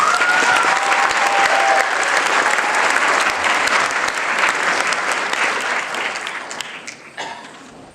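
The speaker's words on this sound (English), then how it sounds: "Can we give a special round of applause for Lauren and Keyshawn" A large audience at a school band concert applauds loudly and steadily, the clapping slowly fading toward the end.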